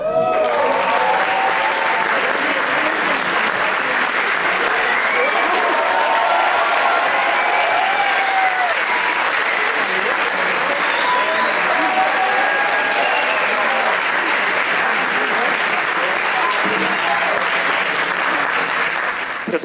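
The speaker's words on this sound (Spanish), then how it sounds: "quiero que recibamos por primera vez acá en Teatro Mori con un fuerte, fuerte aplauso al gran Felo." A theatre audience gives loud, sustained applause for a comedian at a live stand-up show, a dense wash of clapping and some cheering that holds steady for about twenty seconds with no talk over it.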